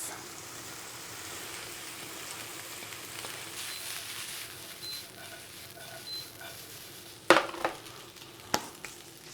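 Rice frying in a pan gives a soft, steady sizzle, with a few sharp clatters of a utensil against the pan near the end.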